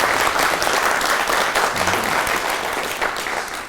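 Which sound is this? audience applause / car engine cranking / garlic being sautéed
audience applause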